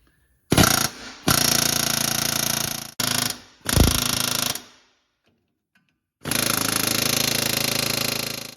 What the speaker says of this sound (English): But I just try to turn it a little bit with an air hammer.